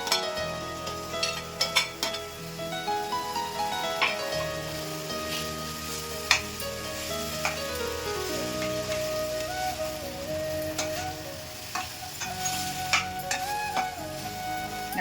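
Grated paneer sautéing in oil for a sandwich filling, a continuous crackling sizzle with repeated stirring scrapes and taps of a spoon against the pan, no voices.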